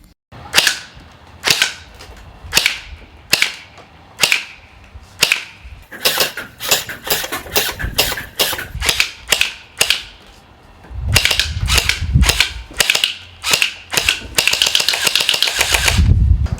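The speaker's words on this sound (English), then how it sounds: "Now I moved back and took some shots at these plastic bottles." Gel blaster firing gel balls at plastic bottles: a long series of sharp, snappy shots, single and evenly spaced at first, then quicker bursts and a fast rattling volley near the end, close and loud with no talk.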